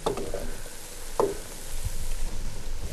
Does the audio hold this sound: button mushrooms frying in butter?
yes